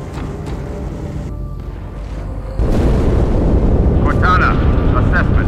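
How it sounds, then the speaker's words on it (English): Explosion in the video game Halo 2 Anniversary, a sudden loud rumbling boom that keeps roaring as a dense low wash over a steady engine-like drone, with voices speaking over it. "That explosion came from inside the Athens, same as the Malta."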